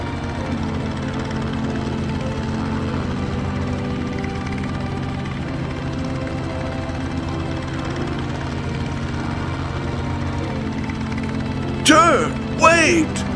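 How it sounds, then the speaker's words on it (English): A helicopter flying in the video game The Low Road, a steady droning rotor hum holding throughout, with a voice breaking in near the end. "Is that a helicopter?"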